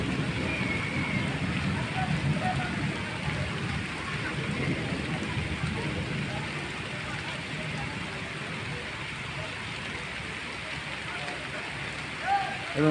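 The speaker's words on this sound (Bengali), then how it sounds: "এবং প্রচুর পরিমাণে বৃষ্টি হচ্ছে আর কি," Heavy rain pours steadily over an open field near Kaliganj during a thunderstorm, a constant dense hiss with faint low rumbling underneath and no other sounds standing out.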